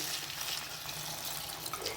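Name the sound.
water poured into a Chettinad cooking pot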